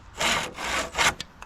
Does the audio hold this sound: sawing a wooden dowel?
yes